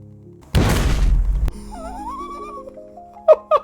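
An object makes impact in the video game Space Engineers 2, a loud crashing, shattering thud lasting about a second, followed by quieter tonal sweeps and a couple of short, sharp knocks.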